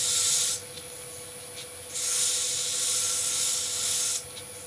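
Sandpaper rubs against a spinning wooden box on a lathe turning at 1800 RPM, in two hissing passes with a quieter hum from the lathe between them.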